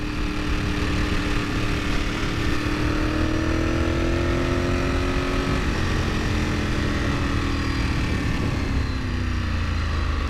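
A four-valve motorcycle engine revs steadily and loudly up close, its pitch rising and falling smoothly as the light, quick-spinning engine climbs through the revs, with wind roar underneath and no talk.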